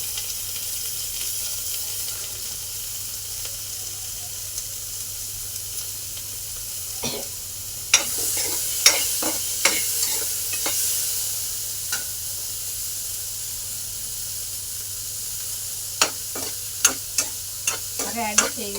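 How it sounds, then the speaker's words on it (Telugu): Cucumber pieces stirred in a dry pan with no oil, a faint steady sizzle broken by scattered sharp scrapes of the spoon that bunch into quick runs near the end. "ఇప్పుడు ఇందులోనే దోసకాయలు వేస్తాం. ఆయిల్ ఏమి వేయట్లేదు"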